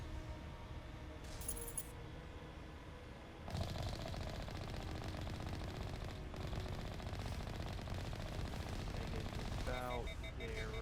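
Rapid automatic gunfire rattles steadily in the sci-fi video game Mass Effect Legendary Edition, a dense continuous burst that intensifies midway, with game voices and effects mixed in.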